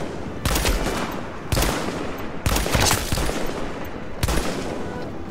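A semi-automatic sniper rifle fires four loud, evenly spaced shots in a video game, each a hard crack trailing into a long booming decay, with no talking.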